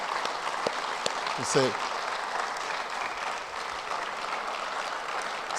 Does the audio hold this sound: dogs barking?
no